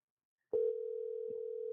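A telephone line tone sounds as a call is placed to a guest: after brief silence a single steady electronic tone begins and holds, clear and alone.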